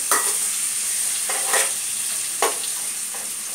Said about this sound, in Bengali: হলুদ দেওয়া হচ্ছে নাড়া হচ্ছে